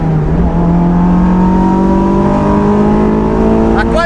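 A Honda S2000's VTEC engine revs hard, its high whining note climbing steadily toward 9000 rpm, loud and close, with a brief voice near the end.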